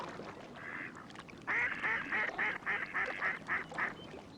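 Ducks in a marsh give a run of loud, rhythmic quacks, about eight in quick succession after an earlier softer call, over a quiet outdoor background.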